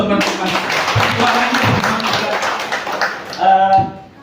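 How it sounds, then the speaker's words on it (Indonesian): An audience at a district health office evaluation event claps in a dense, sustained burst of hands, while voices talk over the applause near its end. "Tepuk tangan buat teman-teman."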